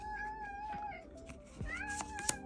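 A cat meows close by in a drawn-out, wavering call that rises again near the end, over a faint background hum.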